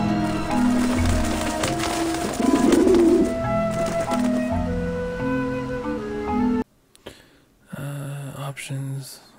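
Pigeons or doves cooing in the Grim Fandango video game, soft repeated coos layered over music and clattering game sounds, then a short gap and a quieter return of the same ambience.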